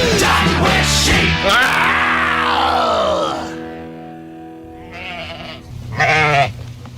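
Sheep bleat loudly and close by in a barn or pen, several drawn-out wavering calls overlapping in the first three seconds, then two shorter bleats after a pause, with no talking.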